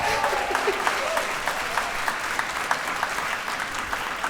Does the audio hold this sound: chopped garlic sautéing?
no